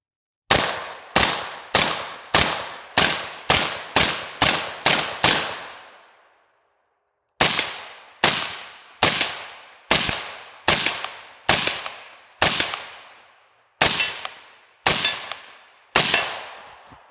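Rifle-caliber pistol firing 55 grain ammunition: a rapid string of about ten loud, sharp reports, a brief pause, then another slower series of about ten shots, each with a short ringing decay.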